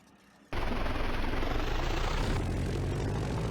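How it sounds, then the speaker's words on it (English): Aircraft engine auto-starting in the FlightGear flight simulator, a steady loud whirring roar that kicks in abruptly after a quiet moment and holds constant, with a rising whine over it. "Let's just auto start an aircraft."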